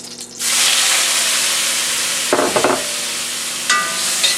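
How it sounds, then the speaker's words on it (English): Shrimp drop into a hot wok and set off a sudden loud, sustained sizzle, with a few brief scraping stirs and a clink partway through. "wok's hot enough. Go ahead and add our shrimp."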